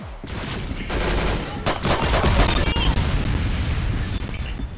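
Loud video game explosions in Arsenal go off among bursts of rapid gunfire, with sharp booms near the start and again in the middle.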